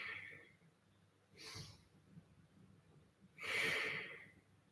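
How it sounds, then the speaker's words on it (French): Abdominal breathing during a standing star-posture stretching routine for caregivers: two deep breaths, each a soft airy rush, spaced a couple of seconds apart in an otherwise quiet room. "Respiration abdominale."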